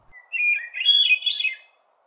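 A hermit thrush sings one clear, flute-like phrase that holds a steady opening note and then breaks into rising, echoing trills. It is close and fairly loud, with no voices around it.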